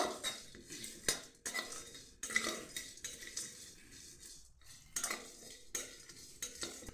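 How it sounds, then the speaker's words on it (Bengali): A metal spatula scrapes and clinks against a wok in irregular strokes while whole spices dry-roast over low heat, the light stirring heard close and fairly quiet. "ভেজে নেব, হালকা আঁচে কড়াতে ভেজে নেব।"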